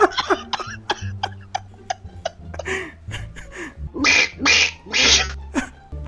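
A voice imitating Donald Duck quacking in several raspy, throaty bursts, building to loud strained squawks near the end, heard close and alone without other talk.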